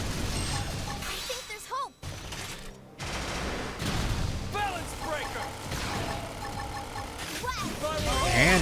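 Explosions and gunfire-like blasts as a turret is destroyed in the video game Xenoblade Chronicles X, with dense layered booms, crackling bursts and rising synth tones over steady game music, loud and continuous.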